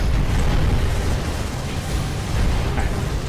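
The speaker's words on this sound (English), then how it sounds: "just had to shoot that one cannon out" A cannon shot explodes in the Drakengard video game, a loud, dense rumbling blast that stays sustained and roaring throughout rather than fading quickly.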